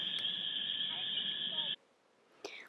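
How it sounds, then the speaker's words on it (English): A steady high-pitched chorus of spring peeper frogs trills continuously in Eberwhite Woods, then cuts off abruptly, leaving near silence before a brief sharp sound. "Listen to the spring peeper frogs in the background."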